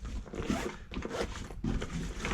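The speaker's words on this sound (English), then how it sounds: "Zip it up." The zipper on a soft case for a cordless ratchet and sockets is pulled closed in several quick, rasping strokes with short pauses between them. The sound is close and fairly quiet, and no one speaks.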